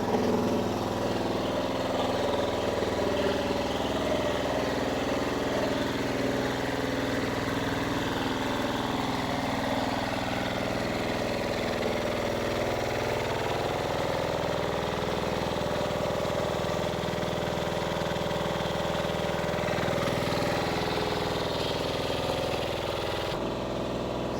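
A water pump engine runs steadily at a dig site for a box culvert, a continuous mid-pitched idling drone heard at a distance for the whole stretch, with no talking over it.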